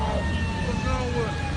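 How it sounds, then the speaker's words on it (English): An ambulance siren sounds steadily with a wavering wail, somewhat distant and muffled under street noise, with no talking over it. "Here come the ambulance, bro."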